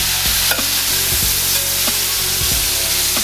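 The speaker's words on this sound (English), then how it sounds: "And basically you're browning the steaks." Steaks brown in extra virgin olive oil in a skillet, giving a loud, dense, continuous sizzle close up, with a few soft thumps and scrapes as they are moved.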